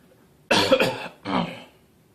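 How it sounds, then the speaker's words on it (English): Two close, abrupt coughs from a person who just choked on soda, in quick succession, the first harsher and louder, the second slightly softer, then quiet. "Oh, sorry about this cough."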